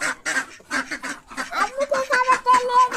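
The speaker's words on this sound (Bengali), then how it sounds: "আম্মুকে খাবারটা নিয়ে যেতে দেখে হাঁসগুলো তো আনন্দ চেঁচামেচি করছে।" Chinese and desi ducks quack excitedly at feeding time, with rapid, overlapping, nasal calls up close that keep coming in quick bursts.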